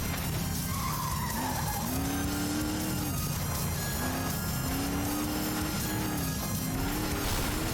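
Cars in the FlatOut 2 racing game skid and squeal with engines whining through a wreck, a continuous loud stretch of sliding tires and revving at close range.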